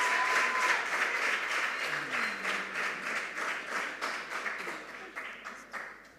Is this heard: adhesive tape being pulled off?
no